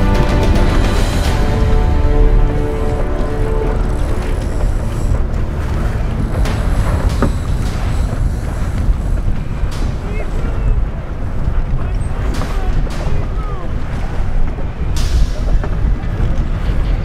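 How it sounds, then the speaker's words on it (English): Etchells one-design keelboats racing in a tight pack around a turning mark, heard from on the water: constant wind buffeting the microphone and rushing water, with hull and rigging noises throughout and no clear talking. "We're seeing 5 boats arrive at this turning mark"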